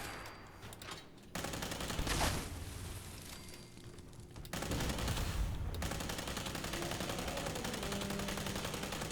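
A Tesla rifle fires in the video game Fallout 76, rapid continuous bursts of crackling, buzzing gunfire that cut in and out in long sustained stretches.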